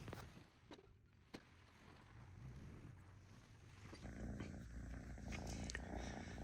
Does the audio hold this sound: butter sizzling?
no